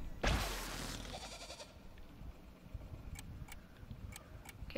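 A goat in Guild Wars 2 lets out one loud, close bleat at the start, followed by quieter game ambience with scattered faint ticks.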